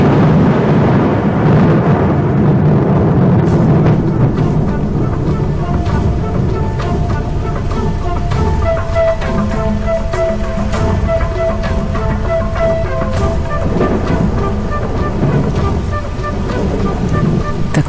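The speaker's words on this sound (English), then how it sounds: "The cool downpour provides long-awaited relief from the heat" A heavy rain downpour falls over an open plain, a loud, dense, steady hiss with low rumbles of thunder running through it.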